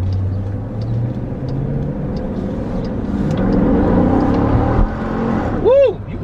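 A Dodge Durango RT in sport mode accelerating hard, engine roaring loud and steady from inside the cabin and rising toward the end, with a voice speaking over it.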